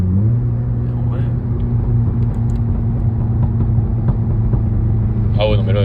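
Seat Leon Cupra engine droning steadily from inside the car, a deep continuous rumble with a few faint crackles, while voices talk over it.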